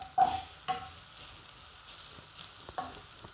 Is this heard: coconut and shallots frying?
yes